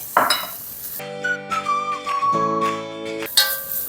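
Soft tofu and mushrooms stir-fried in a pot for a perilla seed soft tofu stew, with metal utensil clinks and scraping at start and end around a sustained tonal hum in the middle.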